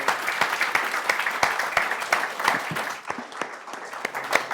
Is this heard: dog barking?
no